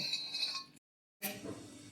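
Utensils and a plate clinking as roasted food is moved onto a plate, a couple of light metallic chinks separated by a brief silence, close and faint.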